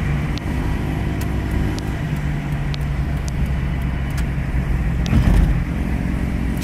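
A Motobravo 150cc motorcycle-style scooter being ridden at highway speed, its engine drone steady and close beneath constant road and wind rush, rising briefly near the end.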